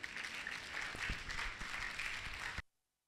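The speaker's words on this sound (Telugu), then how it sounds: "క్లాప్స్ కొడదాం ఒకసారి" An audience at a youth camp session bursts into dense, steady applause that holds for a couple of seconds before cutting off abruptly into silence.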